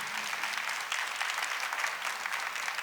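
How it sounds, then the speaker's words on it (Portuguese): A church congregation claps for Jesus in the Eucharist, an even, steady patter of applause heard at moderate distance and fairly soft, with no talking over it. "Vamos dar mais uma salva de palmas para Jesus Eucarístico"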